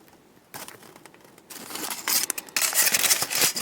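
Scissors snip at a fly-tying cicada body, a few sharp close cuts and crisp rustling that grow louder toward the end of the short stretch, with no talking.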